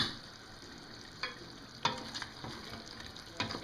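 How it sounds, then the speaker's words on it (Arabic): Chicken browning in ghee in a pan, a steady low sizzle with a few sharper spatters and stirring knocks, close and fairly quiet, no talking. "من بعد ما تشحر لينا الدجاج"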